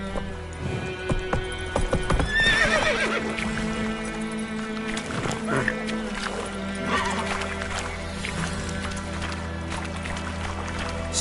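Horse hooves clip-clopping at a steady rhythm in The Witcher 3 game, with occasional whinnies over a layered music and ambient bed, moderately loud and continuous.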